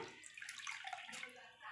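Hibiscus leaves are swished and rinsed in a vessel of water, a brief close sloshing and splashing, soft and quick.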